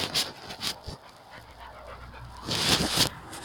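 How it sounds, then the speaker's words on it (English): Rhythmic panting from a dog close by, quick breathy huffs in bursts that grow louder toward the end, with no talking. "My dog."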